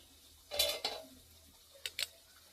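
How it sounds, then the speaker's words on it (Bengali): A metal lid lifted off a pot of chicken cooking in spices, giving a short scraping clatter followed by two quick light clinks, fairly faint with no talking. "ঢাকনিটা খুলে দেখায়"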